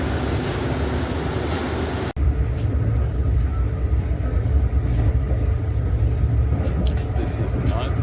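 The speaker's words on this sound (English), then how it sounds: "This is the speed of the train." A steady, loud rumble of a train moving along the tracks, with continuous low roar and faint rattling throughout.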